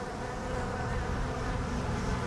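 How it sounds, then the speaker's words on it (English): A dense swarm of bees buzzes continuously and loudly nearby, a thick droning hum with no talking. "That's a lot of bees."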